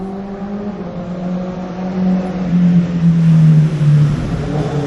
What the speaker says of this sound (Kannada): ಇಂಜಿನ್ ಅಂದ್ರೆ ಅದೇ ಸೌಂಡ್